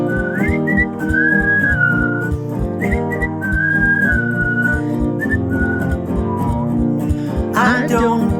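A person whistles a bright, lilting tune over a steady musical backing, the melody rising and falling in phrases.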